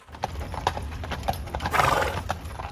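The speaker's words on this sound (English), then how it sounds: "It's the sights and sounds of Clydesdales." Heavy Clydesdale draft horse hooves clip-clopping in a steady rhythm on hard ground in a small central Illinois town, with a brief whinny in the middle and faint background noise.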